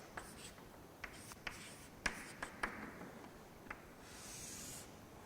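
Marker or chalk strokes on a board during an engineering lecture on trusses: a series of short, distinct scratching taps spread across a few seconds, fairly quiet in a room with low background hiss and no talking.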